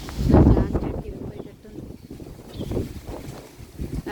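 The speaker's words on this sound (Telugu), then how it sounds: "మాకు ఉరుములు మెరుపులు గాలిలు అన్నీ వచ్చేస్తున్నాయి" Strong storm wind outdoors during a thunderstorm, near sheet roofing and trees, buffets the microphone in heavy low gusts, loudest early and then surging again, with a voice talking over it.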